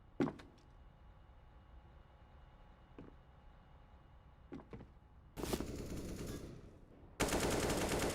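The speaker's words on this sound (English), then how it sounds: "he's shooting bullets at the walls" Gunfire from a competitive shooter match, bullets striking walls: scattered sharp shots and thuds early on, then two long, loud sustained bursts of automatic fire near the end.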